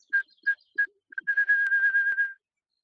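A person whistles an imitation of a wrentit's song: three clear, evenly spaced notes, then a quick run of repeated notes forming a rapid trill.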